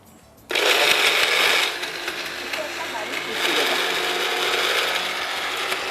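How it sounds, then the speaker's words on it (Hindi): An electric kitchen grinder whirs loudly as it grinds chutney finely for a French bean masala fry, starting abruptly with a steady mechanical drone that eases slightly in pitch and loudness partway through. "ऐसे बारीक पीसना है"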